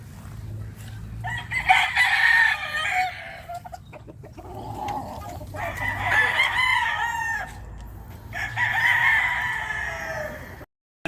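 Chickens and roosters at a gamefowl farm in Santa Rita, Pampanga, with repeated clucking and bursts of crowing in several loud, close waves and quieter birds between them.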